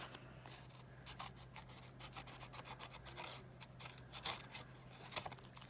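Close, quiet snipping and rasping as excess cardstock is trimmed from the edges of a craft piece, a string of soft irregular cuts and scrapes with a couple of sharper snips near the end.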